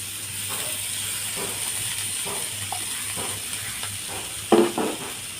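Beetroot tipped into a hot pan for thoran, with a few soft scraping stirs and a brief louder clatter near the end, all over a steady low sizzle and hiss.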